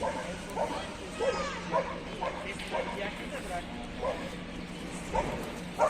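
A 15-month-old female Kangal dog lets out repeated short yips and whimpering barks at a fairly even pace, with people talking over the sounds throughout.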